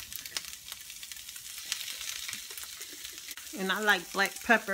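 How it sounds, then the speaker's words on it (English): Sliced onions frying in oil for a cheesesteak roll, a continuous crackling sizzle with scattered pops, and a person talking over it toward the end. "Gotta add some oil to your onions."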